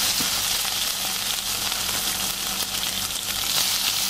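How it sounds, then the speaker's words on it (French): Chili sizzles steadily in olive oil in a small sauté pan, a continuous bright crackle of frying with no voices over it. "on a fait chauffer un petit sautoir, on a mis de l'huile d'olive, on met notre piment"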